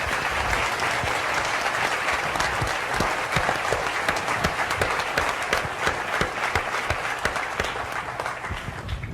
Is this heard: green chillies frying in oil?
no